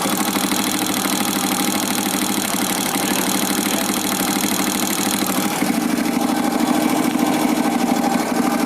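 A motorcycle engine idles steadily at close range, with a fast, even metallic ticking from improperly adjusted valves running through the drone, alone and without talk.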